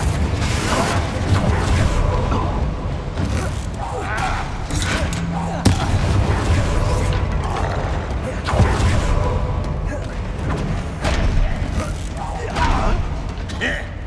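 Hogwarts Legacy combat with the Confringo fire spell: dense, loud bursts and crackling blasts repeating over a busy game soundscape, with sharp impacts around the middle and spoken voices in the mix.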